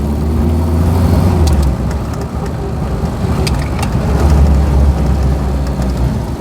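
A 1999 Reliant Robin three-wheeler with an all-iron engine drives along, its motor droning steadily and close with low rumble swelling and easing as it accelerates, with road and wind noise throughout.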